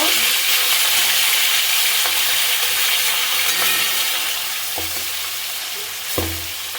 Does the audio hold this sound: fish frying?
yes